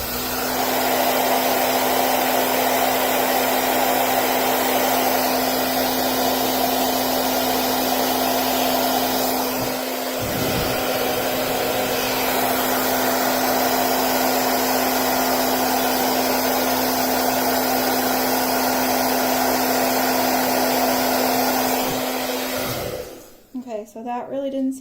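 Steady, loud hair dryer roar with a constant hum, running alone for about 23 seconds before cutting off near the end, used near a temperature sensor on an Arduino setup.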